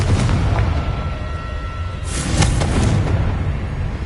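A booming spell explosion in a Harry Potter video game, a loud rumbling blast with crackling bursts over a steady noisy game background.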